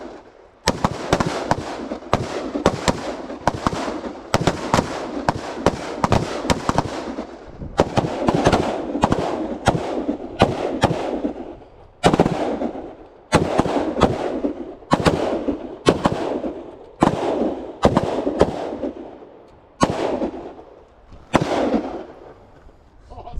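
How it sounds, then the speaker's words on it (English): Rifle shots fired slowly on an outdoor shooting range, a long series of sharp, loud cracks spaced a second or two apart, some overlapping with other shooters along the line. "Go ahead and commence firing. Slow fire, 5 perfect shots."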